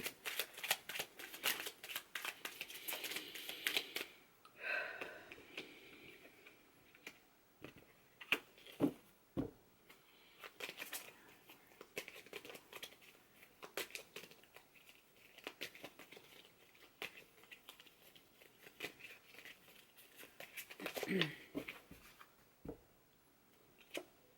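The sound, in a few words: shuffling a tarot card deck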